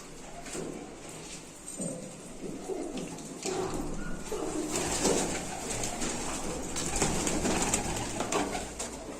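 Several pigeons coo in rolling, repeated phrases close by in a loft, with some shuffling and rustling beneath a low background hum.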